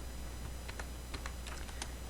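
Light, quick keystrokes on a computer keyboard, an irregular patter of soft clicks close by over a steady background hum.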